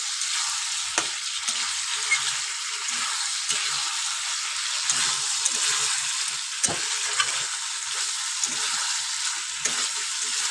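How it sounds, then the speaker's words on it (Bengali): Meat and spice masala frying in oil over a high gas flame, a loud dense hiss of sizzling with frequent stirring scrapes and small pops, steady and close with no speech. "গ্যাসের ফ্লেম কিন্তু হাই করে এরকম রান্না করলে তাড়াতাড়ি কিন্তু মশলা থেকে তেলটা ছেড়ে দেবে।"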